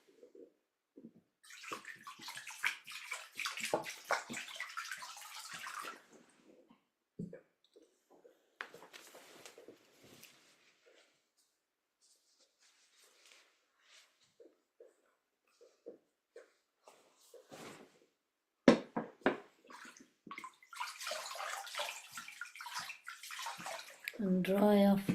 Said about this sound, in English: So let's just rinse our feet.